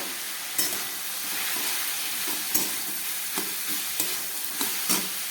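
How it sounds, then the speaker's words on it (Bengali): Ash gourd pieces frying in a pan, a steady soft sizzle and hiss with periodic scraping stir strokes every second or so, close and fairly quiet with no voices. "চাল কুমড়োটা একটু ভেজে নিলাম, জলটা অনেকটাই শুকিয়ে গেছে।"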